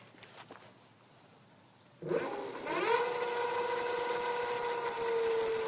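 A Corso Rocco 24-inch electric bike with a 500W 48V motor starts up after a quiet lull: a sudden whir climbs into a steady high whine, shifting pitch as it runs through the gears.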